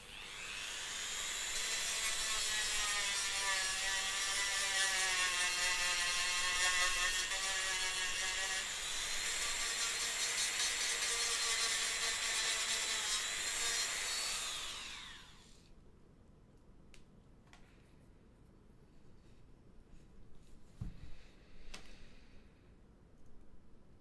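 A power tool whirs steadily and loudly for about fifteen seconds while trimming plastic model kit parts for a kitbashed Skaven mech, then cuts out, leaving faint clicks and handling noises.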